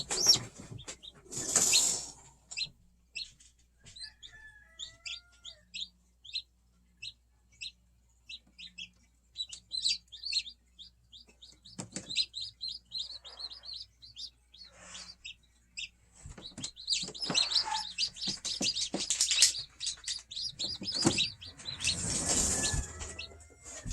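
Newly hatched chicks at a hatching give faint, high peeping chirps in scattered bursts and short runs, with a few louder calls near the start and end, over a quiet room with light background noise.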